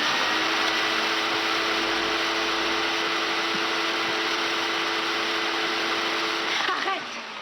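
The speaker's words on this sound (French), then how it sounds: "Le bruit de l'aspirateur à 2h30 du matin" A vacuum cleaner runs at night, a loud continuous droning whine holding steady for several seconds before cutting off near the end.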